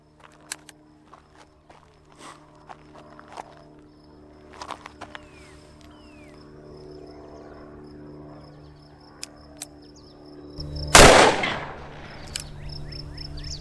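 A Ruger Alaskan .454 Casull revolver fires one loud, close shot at an outdoor range, a sharp blast with a brief ringing tail that breaks a long quiet stretch of faint clicks and ambient noise.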